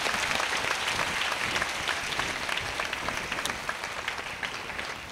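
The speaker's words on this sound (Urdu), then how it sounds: "زوردار تالیاں بجائیں آج کے اس پروگرام کے لیے" A congregation at a Catholic church coronation ceremony for Mother Mary applauds warmly, dense steady clapping from many hands that tapers slightly toward the end.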